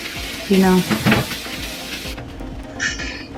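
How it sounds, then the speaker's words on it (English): Dishes being washed by hand in a kitchen sink during a quick fall cleaning session: a steady hiss of running water with a few soft clinks and splashes, close by. "I'm washing these dishes"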